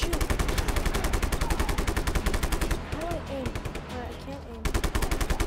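Automatic gunfire in the open-world shooter Just Cause 3 rattles in long rapid bursts, loud and close, easing briefly mid-clip before resuming, with game music underneath.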